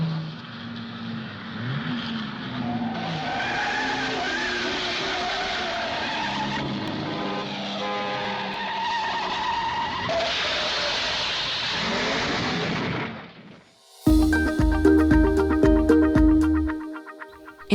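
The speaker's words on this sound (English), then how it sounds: "In the first James Bond movie, Dr. No, James Bond drove a Sunbeam Alpine." A Sunbeam Alpine sports car drives in a film scene, its engine droning steadily with shifting pitch and tire noise for several seconds, then music takes over after a brief dip.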